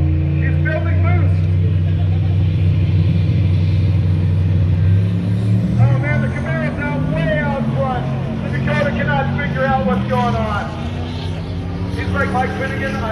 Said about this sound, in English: Turbo 318 Dodge Dakota versus the Camaro with the Turbo LS in it